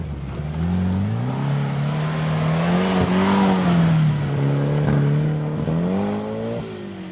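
A 4x4 off-road vehicle pulls away on a time-trial track at the Maxxis 4XTR event in Parys, its engine rising and falling in pitch through several revving surges, loud and fairly close.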